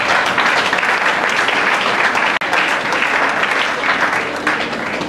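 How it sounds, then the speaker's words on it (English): Sustained round of applause from an audience at a formal civic event in Nigeria, dense steady clapping filling the whole stretch with a brief dip midway. "A round of applause,"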